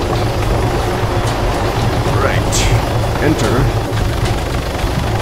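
Arma 3 helicopter engine and rotor drone loudly and steadily throughout, under brief spoken voices.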